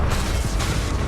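An Expelliarmus spell is cast in Hogwarts Legacy, a short dense whooshing burst with a low rumbling thump, loud and close, lasting about a second.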